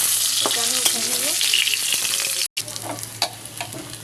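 Fish frying in a pan of hot oil crackles with a close, steady sizzle, broken briefly by a short gap, then continuing with occasional light clinks and spits.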